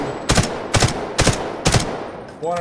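An M4A1 rifle fires in the Delta Force video game, four sharp evenly spaced shots in quick succession, ending in a short metallic ringing tone.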